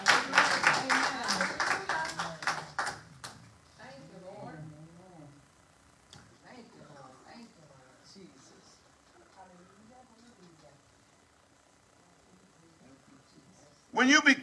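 A church congregation claps their hands in quick, steady rhythm for a few seconds. Then a voice speaks over a quiet room, and the loud clapping bursts in again at the very end.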